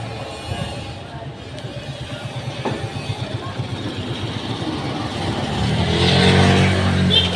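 Motorcycles and jeepneys idle and rev at a busy terminal, a pulsing engine rumble that swells louder toward the end, with voices mixed into the background.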